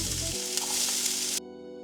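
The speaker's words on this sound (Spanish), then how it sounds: "ponemos a calentar un poco de aceite de oliva para saltear la cebollita y el ajo" Onion and garlic sizzle steadily in hot olive oil in a frying pan, a dense, loud crackle that cuts off abruptly near the end.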